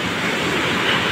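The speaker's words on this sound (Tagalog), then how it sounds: "Grabe yung high tide ngayon, no? Tapos grabe din yung lalaki ng alon." Big ocean waves at high tide wash steadily up toward a beach cottage, forming a continuous, loud broadband roar of surf with no break and no voices.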